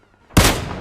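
Video game gunfire: a single sharp, loud burst that cuts in abruptly after a short quiet moment and decays with a noisy tail.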